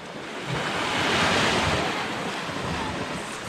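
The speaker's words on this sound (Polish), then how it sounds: "Wszędzie są takie, o, jaskinie. Tu woda podmywa." Sea water surges into coastal caves below a steep Italian peninsula beach, a continuous loud wash of surf and rumbling water with wind buffeting the microphone, no voices.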